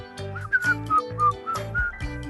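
A person whistles a short melodic tune of several clear sustained notes, close up, over a rhythmic musical backing with repeating low beats.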